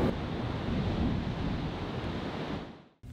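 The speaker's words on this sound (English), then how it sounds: "where the waves kiss the shores with a gentle rhythm" Waves break on the shore at Imperial Beach in San Diego County, a steady, full wash of surf with wind rumble on the microphone, fading out abruptly near the end.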